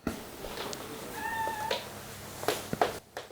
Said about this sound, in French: un chat noir qui est aveugle